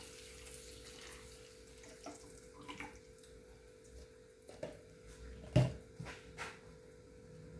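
A quiet stream of buttermilk pours against a low steady hum, with a brief clunk partway through.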